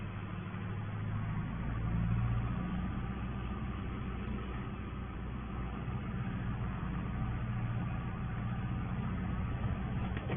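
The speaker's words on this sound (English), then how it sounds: "Not the quickest tractor we've got on the farm" Ford 7610 farm tractor engine running steadily from the cab, a continuous low diesel rumble and drone with little variation, heard alone throughout.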